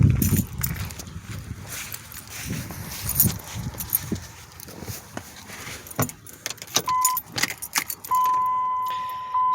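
Car keys jangle close up in a shop setting beside a 2003 Dodge Ram with a common-rail Cummins diesel, in a burst of metallic rattles and handling clatter, with a brief electronic tone near the end.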